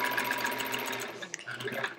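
A sewing machine quilts the border of a Splendid Sampler quilt with thread matched to blue fabric, its needle running in a steady fast drone throughout, close and alone with no talk.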